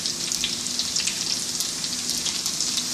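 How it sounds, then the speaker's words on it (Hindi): Garlic frying to light golden in hot oil for an aloo shimla mirch dish, giving a steady, dense crackling sizzle that stays close and even throughout, with no voices. "लहसुन को हम लोग फ्राई करेंगे लाइट गोल्डन, ये आप देख रहे हैं"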